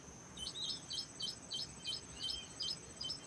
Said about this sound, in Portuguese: Eu estou até ouvindo um passarinho aí no fundo